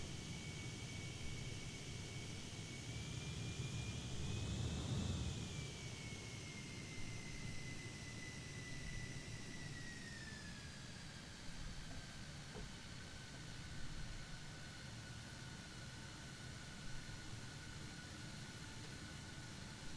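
A simulated airliner taxiing in a flight simulator game gives a steady engine hum and rumble with a high whine that slowly drops in pitch, continuous and moderately loud throughout.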